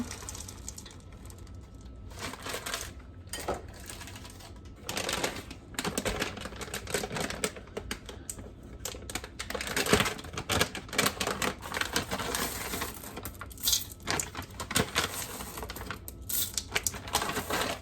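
Chocolate chips and M&Ms tumble into cookie cake batter with a steady, scattered patter of small clicks and taps that continues close up throughout.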